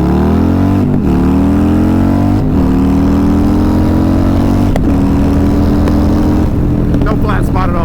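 A Harley motorcycle with a Stage 4 131ci engine accelerates hard in first gear, its loud, close exhaust rising steadily in pitch through the pull with brief dips between surges, while a rider talks faintly underneath.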